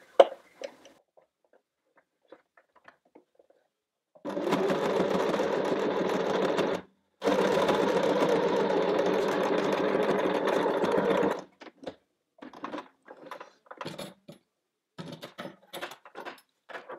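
A sewing machine stitches a homemade fabric face mask, running in two steady whirring stretches of a few seconds each with a short pause between, followed by scattered clicks and handling of the fabric, fairly close and with no talk.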